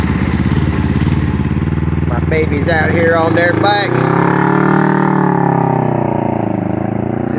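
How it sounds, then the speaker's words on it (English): A small Chinese scooter engine runs steadily after a carburetor main jet swap from 103 to 125, with a continuous buzzing drone throughout while a person talks over it. "Just got my daughter's little scooter up and running."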